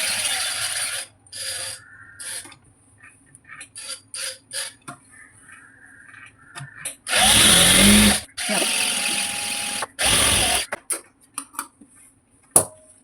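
A sewing machine stitches a school uniform coat in several loud, sharp runs of rapid mechanical clatter, the longest around the middle, separated by quiet pauses filled with small clicks and handling noises.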